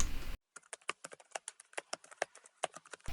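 Rapid keystrokes on a computer keyboard while entering data into OpenMRS software, a close, dry run of about two dozen separate taps in an uneven rhythm, with no talking.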